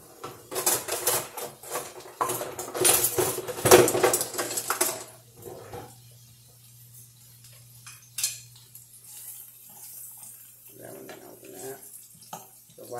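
In a home kitchen, a fork and dishes clatter in a quick burst of clinks and knocks, alongside running-water sounds, and then the noise gives way to quieter handling with a low hum.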